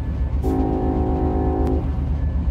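A train horn sounds in one sustained blast of about a second and a quarter, fairly close and loud over a steady rumble of rail noise, with no talking.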